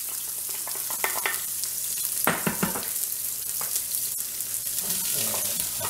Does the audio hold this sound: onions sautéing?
yes